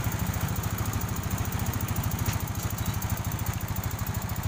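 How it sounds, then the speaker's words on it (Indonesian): A Yamaha Mio Sporty motorcycle engine idles steadily after repair, a close, even putter with a regular rapid pulse and no voices over it. "Kalau untuk di mesin udah kembali halus nih"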